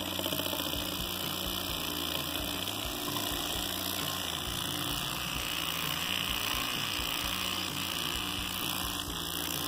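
A homemade high-pressure piston water pump running steadily, its reciprocating piston giving a continuous close mechanical drone with rhythmic knocking vibration throughout.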